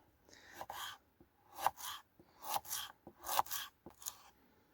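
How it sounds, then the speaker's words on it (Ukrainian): Knife slicing an onion into half rings on a board, a quick run of crisp rasping cuts in short bursts with brief pauses, close and fairly quiet with no talking. "Зараз швидко наріжу цибульку півкільцями"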